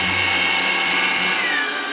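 Electric hand mixer whipping heavy cream for gingerbread no-churn ice cream, a loud steady whirring motor drone running continuously and close up, with no talking over it.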